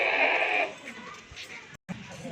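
A Rajanpuri goat lets out a loud, close bleat at the start, then fades into quieter barnyard murmurs and movement at a livestock sale.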